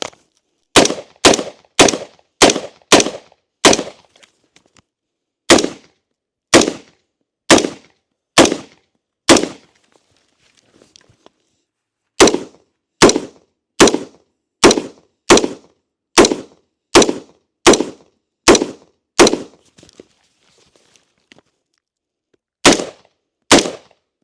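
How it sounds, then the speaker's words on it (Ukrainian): Sharp shots from an Andro Army ACI-15 rifle fired at a target ring out in quick bursts of several, with pauses between groups, loud and close against near silence. "Зараз я здійсню 25 пострілів по мішені, перевіримо, наскільки точна Андро Армі"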